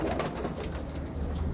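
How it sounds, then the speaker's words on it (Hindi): A captive blue pigeon gives soft, low cooing, partly buried in a dense, steady wash of background noise. "ये एक नीला कबूतर है,"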